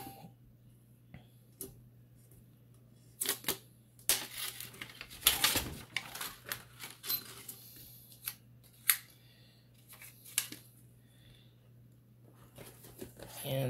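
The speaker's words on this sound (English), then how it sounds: "try to get the tape to peel" Tape being peeled off a finished tumbler, heard as scattered close crackles, ticks and short tearing bursts at low level.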